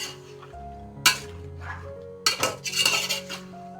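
Curd being stirred into chicken biryani in a metal pot, with scattered scraping and clinking of a spoon against the pot. A few louder clanks stand out among quieter, intermittent handling noises.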